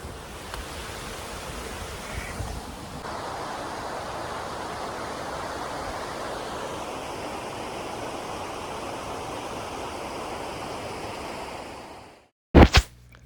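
A long river waterfall roars as a steady, broadband rush of falling water for about twelve seconds, constant and fairly close, cut off near the end by a couple of brief, sharp handling bumps.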